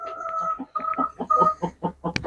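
A few hens settled into a coop cluck in short, repeated bursts, close and clear, with one brief sharper squawk near the end.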